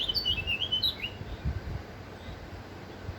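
A blackbird sings outdoors, its bright warbling phrases clear in the first second or so, then fading to softer faint calls over low steady background rumble.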